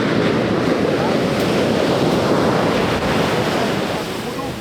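Big shorebreak waves crashing on a beach where skimboarders ride, a constant loud roaring wash of surf with wind noise across the microphone.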